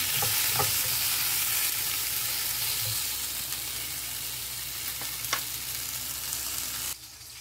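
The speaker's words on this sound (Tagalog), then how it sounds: "Prito tayo ng egg." Eggs and tomatoes sizzling in a frying pan, a steady hiss close by with a few scraping stirs and clinks, ending abruptly after about seven seconds.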